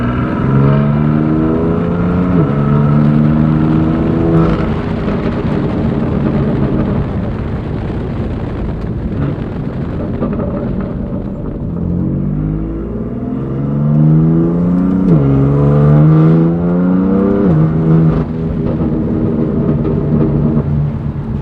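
A BMW M4 GTS with its S55 engine, stock untuned tune and catless downpipes, driving on the road: loud, close exhaust drone rising and falling through several rev sweeps and gear changes, with a raspy metallic edge.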